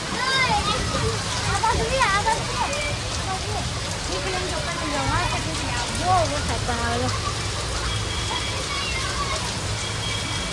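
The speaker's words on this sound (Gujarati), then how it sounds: "બહુ વરસાદ ચાલુ છે" Heavy rain falls steadily on surfaces, a dense, loud, continuous hiss and patter filling the whole stretch while people talk over it.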